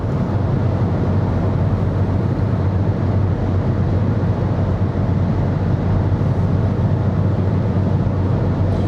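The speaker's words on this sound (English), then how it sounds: "after 74 minutes of driving, the motor sound gets a bit annoying" Steady, loud drone of a Renault 5 EV's electric motor and road noise while cruising on a highway, a continuous low hum running unbroken throughout with no talking.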